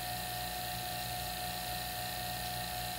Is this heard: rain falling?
no